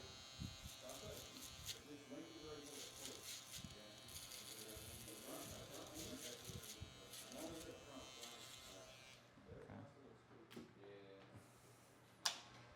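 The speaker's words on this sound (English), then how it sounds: "We're going to get our shaver." Steady electric shaver buzz runs throughout during a barbershop fade haircut, with a faint voice and small clicks underneath; a brief sharp tick near the end.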